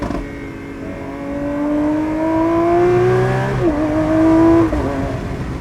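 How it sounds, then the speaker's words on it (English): Lamborghini Aventador SVJ V12 engine revving hard on a track, loud and close, its pitch climbing steadily toward the red line, dropping briefly at a shift, then rising again before cutting off. "The sound of the V12, like, it blows my mind."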